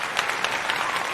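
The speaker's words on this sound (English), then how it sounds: "A round of applause." A brief burst of crowd applause welcomes new passengers, with close, bright clapping that stays dense and even throughout.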